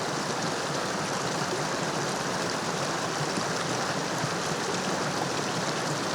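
A small stream of water flows steadily beside a road, a soft continuous broadband rush with no breaks, moderately faint and heard alone.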